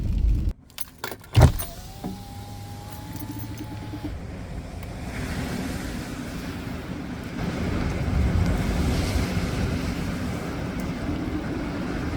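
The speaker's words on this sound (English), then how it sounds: "the water's rushing in pretty good. A few waves, so it's a bit breezy today." Water rushing in at a harbor on a breezy day, a steady broad wash of waves and wind that holds on for the whole stretch after a few sharp knocks and a brief tone near the start.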